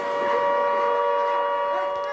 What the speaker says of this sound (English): For the first time in decades, the flood sirens sounded in Louth today.